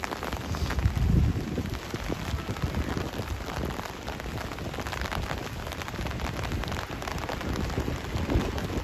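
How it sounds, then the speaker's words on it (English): Rain falling outdoors on a street in the Spitalfields area of London, a steady close hiss of drops that continues throughout with no voices. "So back out in the rain"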